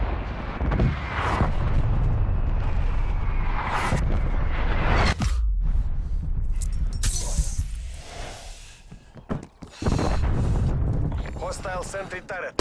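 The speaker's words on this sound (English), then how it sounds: "Artillery targeting detected. Net call, incoming artillery." Incoming artillery strike in Call of Duty Black Ops Cold War free-for-all play: loud, dense rumbling booms and crashes with whooshes and shattering debris fill the whole stretch, and a radio voice announcing alerts runs beneath.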